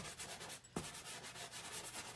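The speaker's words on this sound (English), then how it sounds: "I'm going to put in a dark green on top of all these colors." Dark green pastel stick rubbed over layered colours on paper in a marsh landscape, a steady scratchy sanding texture with soft repeated strokes, close and fairly quiet, with a brief pause near the middle.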